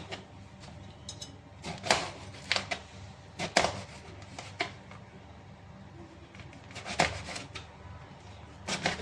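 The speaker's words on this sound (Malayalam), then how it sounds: "ഇത് ചെറിയ പീസ് പീസാക്കി ഇങ്ങനെ വട്ടം വട്ടം മുറിച്ചെടുക്കണം എല്ലാം ഇങ്ങനെ നമുക്ക് മുറിച്ചെടുക്കാം" Eggplant (brinjal) is sliced into round pieces on a board for a chutney. Irregular crisp knife chops and taps land in small clusters, close and moderately loud, with no talk over them.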